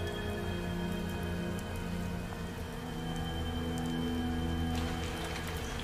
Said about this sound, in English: Oh my god, that rain!